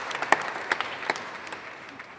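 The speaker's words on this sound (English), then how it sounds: "That's an applause line." Scattered, quiet clapping from a small audience at a domestic violence policy event in Los Angeles, a few distinct claps standing out over a soft room background.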